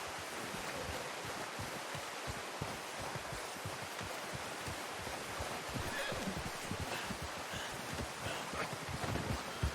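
A horse in the video game Red Dead Redemption 2, its hooves clip-clopping steadily through an outdoor setting with rustling ambience; voices talk over the scene.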